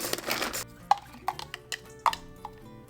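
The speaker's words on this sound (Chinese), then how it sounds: "8个蒜瓣捣成蒜泥" Eight garlic cloves are pounded into a paste, with a burst of rough grinding first, then a handful of sharp, separate knocks against a hard vessel, close and clear with no talk.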